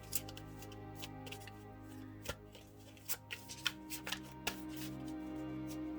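A deck of tarot cards is shuffled close by, giving a run of soft riffles, slaps and taps at an uneven pace over a quiet background.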